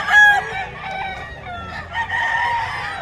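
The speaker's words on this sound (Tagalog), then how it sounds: "Daming manok ni Boss Batang." Roosters crow amid clucking chickens at a crowded Bocaue pet market, one loud close crow up front followed by overlapping calls and bird chatter, with market noise underneath.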